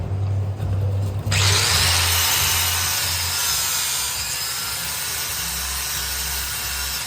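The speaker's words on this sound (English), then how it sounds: "Let me grind these two little spot welds off of here." After a second of low hum, a grinder bites in loudly and keeps up a continuous harsh grinding as it takes spot welds off the rear suspension area of a Mercedes wagon.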